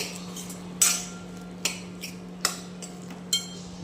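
A metal spoon clinks against a pan while peanut powder is stirred into okra masala, giving about five sharp scraping taps spaced irregularly over a low steady hum, close and fairly quiet.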